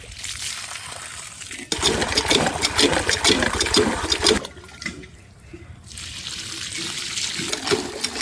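Water pours out of a tipped bucket in two loud, rushing bursts separated by a short quieter gap, heard up close with no voices.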